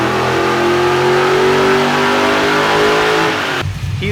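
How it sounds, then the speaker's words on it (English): A twin-turbo LS V8 swapped into a Nissan 240SX warms up, its loud engine drone holding steady with rising and falling tones before cutting away abruptly near the end. "So you just got the car warming up here"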